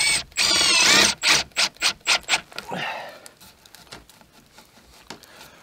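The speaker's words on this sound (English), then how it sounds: "putting in a few screws in there" Screws being driven in at a mountain-top cabin, a loud close burst of a power driver whirring in short rhythmic pulses, then quieter scattered knocks and clicks.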